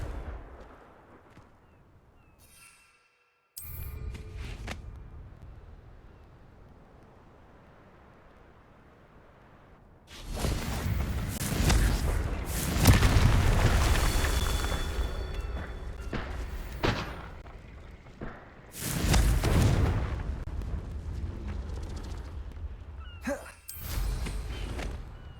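Confringo blasting-spell explosions in the video game Hogwarts Legacy, several loud booming bursts with rumbling tails separated by quieter gaps.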